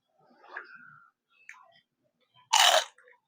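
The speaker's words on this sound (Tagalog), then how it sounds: "kakagatin natin ito yung Shanghai" Crispy fried lumpiang shanghai spring rolls are bitten with one loud, sharp crunch, preceded by faint mouth and handling sounds.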